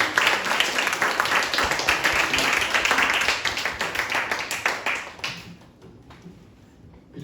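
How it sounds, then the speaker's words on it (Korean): An audience gives warm applause welcoming pastor Im Nak-gyeong to the stage, loud, dense clapping from a crowd that gradually thins to a few scattered claps and then fades out. "임낙경 목사님을 뜨거운 박수로 모시겠습니다"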